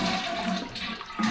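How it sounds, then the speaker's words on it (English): A toilet flushes during a repair, water rushing and gurgling continuously close by, loud and unbroken with no one speaking. "And give her a flush."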